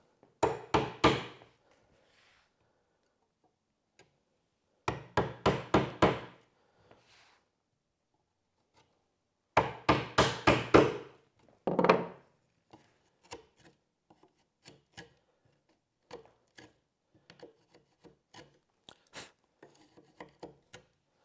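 Bursts of rapid chopping into wood with an edged tool while shaping a picture frame, three heavy flurries followed by lighter, scattered taps and scraping as the cut is cleaned up.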